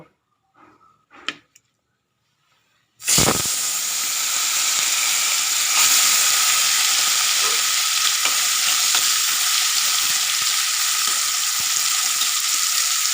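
Amudi fish frying in hot oil: after a few seconds of near-silence with faint clatter, a loud, steady sizzle and crackle bursts in and holds close and continuous to the end.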